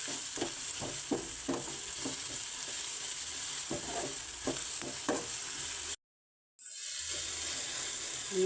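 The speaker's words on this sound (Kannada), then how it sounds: "ಸ್ವಲ್ಪ ಒಗ್ಗರಣೆಯಲ್ಲಿ ಬಾಡಿಸ್ಬೇಕು" Coriander, cumin and fenugreek powders sauté in hot tempering oil with a steady close sizzle, broken by repeated scraping stirs and a brief dropout.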